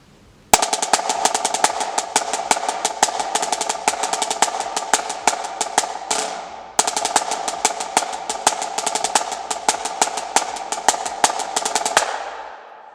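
A snare drum plays a marching cadence at a slow tempo: crisp, rapid strokes with rolls and accented hits, steady and close, in two phrases separated by a brief pause, ringing out at the end.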